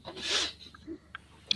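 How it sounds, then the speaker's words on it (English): A single brief cough from a podcast host on a live panel, a soft burst of breathy noise followed by faint sniffs and small clicks, close and otherwise quiet. "That was the cough of podcast panic."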